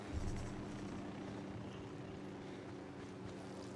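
A helicopter in Ghost Recon Wildlands gives off a steady, low rotor drone with a rumbling hum that holds constant and fairly faint, with no talking over it.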